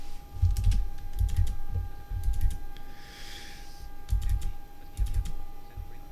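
Computer keyboard keys pressed while operating a PMDG flight simulator, a quick cluster of clicks then scattered single and double taps, close and clear over a steady electronic hum.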